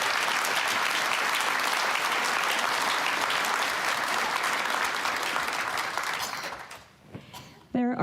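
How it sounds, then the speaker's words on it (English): An audience applauds loudly and steadily at a city address in Boise, with the clapping thinning out near the end as a voice begins speaking. "I think we should give him a round of applause."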